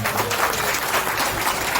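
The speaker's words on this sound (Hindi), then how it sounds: "जोर से तालियां बजा देंगे।" Loud, dense applause from an audience at a Shiv Mahapuran katha gathering at a temple in Pinjore, Panchkula, steady clapping filling the whole moment without letup.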